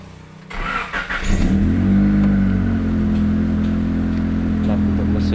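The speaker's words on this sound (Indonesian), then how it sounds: "Coba kita starter untuk mesinnya." Honda Accord automatic engine cranking and catching, then settling into a steady rumbling idle, close and fairly loud, with no talking.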